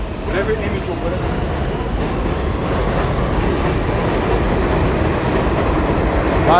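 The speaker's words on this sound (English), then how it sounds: "This is a Flushing-bound 7 local train." A Flushing-bound 7 local subway train near Queensboro Plaza in New York, a loud continuous rumble with rattling wheels and faint squeals, close by, with voices heard over it.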